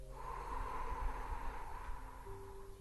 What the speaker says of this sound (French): j'expire tout l'air par ma bouche.